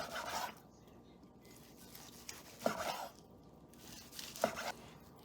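A knife slices through reverse-seared tri tip cooked on a Lone Star Grillz grill, giving three quiet, short scraping strokes spaced a couple of seconds apart over a soft, hushed background.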